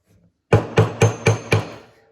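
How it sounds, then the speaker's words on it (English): A reworked Harbor Freight hammer strikes metal stamps five times in quick, even succession, each blow a sharp, close, ringing clack that fades out after the last hit. "This is a hammer from Harbor Freight that I redid it myself."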